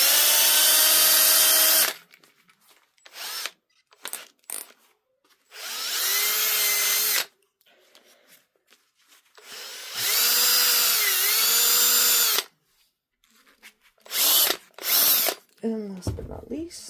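A wooden blanket loom is sanded by hand with fine 400-grit sandpaper in several loud, scratchy bursts of a few seconds each, separated by quiet pauses with faint handling noises.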